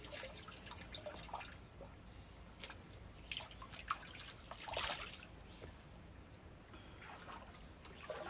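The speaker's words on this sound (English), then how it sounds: "in case you guys don't know what a riverhead looks like, this is one" Cold spring water trickles and drips at an outdoor riverhead, a faint, steady flow with scattered soft splashes and no talking.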